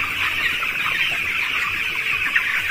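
Chickens on a poultry farm, on their nineteenth day of rearing, make a steady, close chorus of clucking and chattering that runs through the whole stretch with no speech over it.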